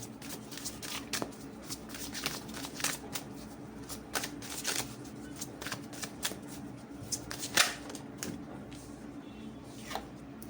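A tarot deck is shuffled by hand in a quiet room, soft riffling and flicking of cards in quick irregular bursts, close but faint, with no talking.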